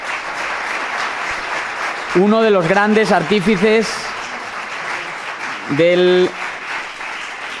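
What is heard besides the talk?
audience applauding a debate panelist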